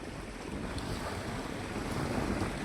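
Strong wind sweeps across Kuda beach on the Gujarat coast, a dense, continuous roar buffeting the microphone and mixing with the wash of waves, with no voices.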